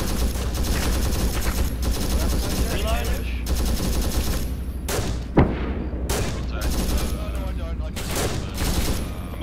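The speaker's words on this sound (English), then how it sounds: "He's up on the fire, I dumped a lot of rounds down range." Rifles fire many rounds downrange in rapid, dense volleys that stay loud and close throughout, with a few sharper single cracks standing out.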